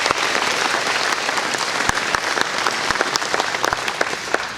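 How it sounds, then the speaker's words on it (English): A large audience at an agriculture awareness event breaks into loud, sustained applause, a dense roar of clapping with sharp individual claps standing out, and no talking over it. "Big round of applause for those two young men,"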